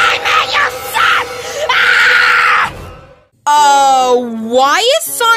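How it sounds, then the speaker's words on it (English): A video-game voice shrieks and wails as Sonic the Hedgehog, in loud, drawn-out screams that rise and fall, broken by a brief silence before a final, even louder cry with sweeping pitch. "Why is Sonic screaming so much?"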